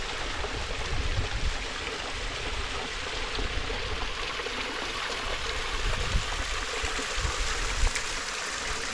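A mountain river in the Scottish Highlands rushes steadily along the Cape Wrath Trail, a continuous broad wash of flowing water, close and even, with no voices.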